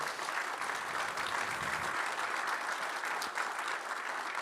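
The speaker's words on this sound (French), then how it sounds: "Vous pouvez les applaudir pour cette intervention." Audience applause at the close of a talk on space industrialisation: dense, steady clapping from a crowd, continuous throughout at moderate volume.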